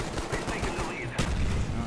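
Rapid gunfire in Call of Duty: Black Ops on PC, quick bursts of shots from a multiplayer match, moderately loud, with a heavier burst near the end.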